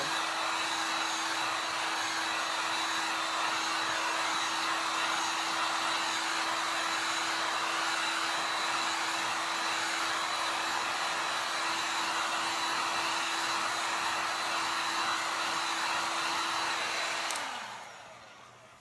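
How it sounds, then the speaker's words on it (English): A heat gun blows with a steady, loud whooshing roar and constant hum that runs without a break, then winds down as it switches off near the end. "I call it a hair dryer, but it's actually the heat gun."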